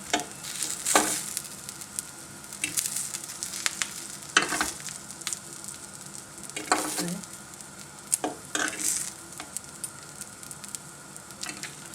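Bread with spicy sucuk and peppers fries in a pan, giving a steady close sizzle. Occasional sharp clatters and presses come as the bread is turned and pushed down, with no talk.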